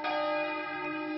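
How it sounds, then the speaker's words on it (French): Church bells of San Biagio in Maranello, Italy, ringing in full peal, a sustained, rich metallic tone with layered overtones holding steadily throughout, no voices present. "les cloches de l'église San Baggio sonnent à la volée"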